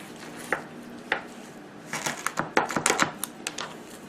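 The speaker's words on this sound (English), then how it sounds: "you're just going to take your knife and you're just going to cut it at the joint, like that." A kitchen knife cuts through a chicken wing at the joint, giving a few sharp taps on a board, then a quick cluster of crunching, clicking cuts, close and fairly quiet.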